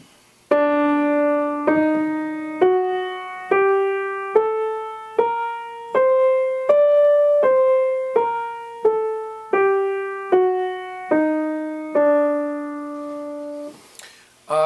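A single instrument plays the Ahava Rabbah scale, tied to Jewish klezmer music, one note at a time up and then back down, in about a dozen clear, evenly spaced tones, loud and close with no talk.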